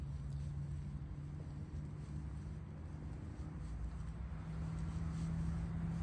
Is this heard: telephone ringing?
no